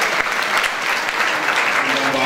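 Dense, loud applause from an audience fills the hall at a prayer festival in Faisalabad, a continuous wash of many hands clapping together without a break.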